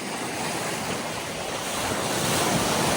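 Rough sea waves in a small storm surge and crash in a steady roar, mixed with gusty wind buffeting the microphone.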